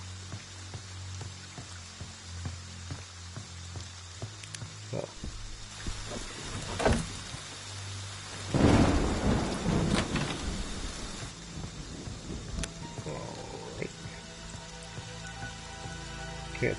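A rainy level in the video game Friday the 13th brings steady rain hiss with a loud rolling thunder crash midway, while someone talks briefly over it.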